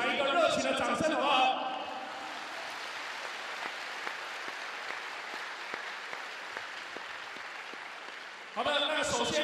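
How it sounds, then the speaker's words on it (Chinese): Audience applause at a men's enterprise volleyball league match between home and visiting Pingtung Taipower teams, a steady crowd clapping for about seven seconds, with an announcer talking before and after it. "一个热情的掌声"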